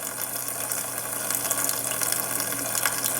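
Water runs and drips as excess water is gently squeezed out of a makeup brush during cleaning, a steady wet hiss with faint splashes.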